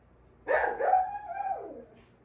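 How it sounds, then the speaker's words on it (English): A single dog lets out one drawn-out, wavering bark that trails into a howl-like whine, fairly close and alone against a quiet background. "I don't know what my dogs are barking at."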